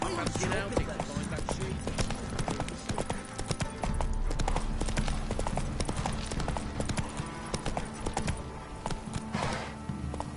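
Steady clip-clop of horse hooves at a walking pace in The Witcher 3: Wild Hunt, close by, over a low continuous rumble and faint background sounds.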